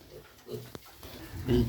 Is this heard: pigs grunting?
yes